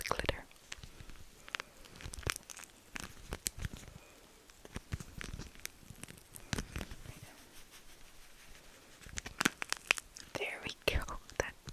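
A glitter-filled phone case with a pop socket is handled close up, giving soft crunchy, crinkling taps and clicks in scattered bursts, quiet and intimate, with faint whispering at times.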